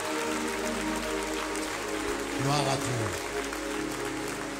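Applause and acclamation fill a church worship service, a steady wash of clapping beneath loud voices and singing, with a speaker's voice rising over the crowd partway through.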